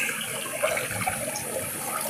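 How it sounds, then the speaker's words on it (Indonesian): Vegetables being rinsed in clear mountain water outdoors, a steady close splashing and gurgling flow with no talk. "Langsung buat langsung dicuci sayur di sini"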